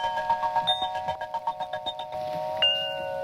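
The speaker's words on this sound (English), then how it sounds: "That's just the chime sample dry" A dry chime sample for an ambient music track plays as a rapid run of repeated bell-like tones, then settles into one sustained ringing chord, clear and close with no talk.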